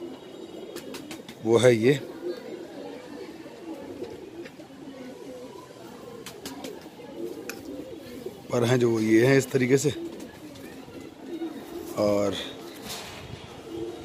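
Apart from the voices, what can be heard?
Punjabi Malwai pigeons cooing in breeding setup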